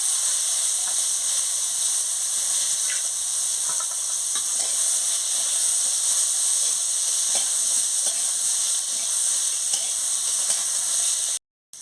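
Vegetables for a tilapia curry fry in a pan with a steady, even hiss. Faint occasional stirring clicks sit on top, and the sizzle cuts out abruptly near the end.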